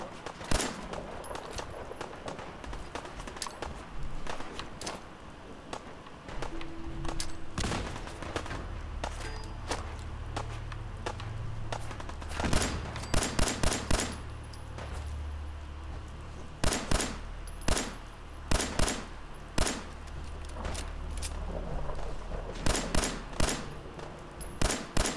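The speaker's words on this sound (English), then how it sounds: "I heard someone shooting from over here." Bursts of gunfire in Fallout 4, sharp repeated shots in rapid clusters over a low rumbling ambience, some volleys loud and close, with quieter stretches between.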